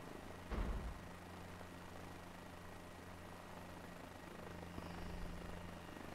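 A helicopter in Microsoft Flight Simulator 2020 drones with a steady low rotor hum and engine whine, opening with a brief heavier thump before settling into a constant, faint background tone.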